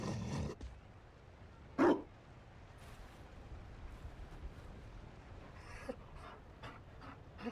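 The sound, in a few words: Mabari dog barking, Dragon Age: Inquisition video game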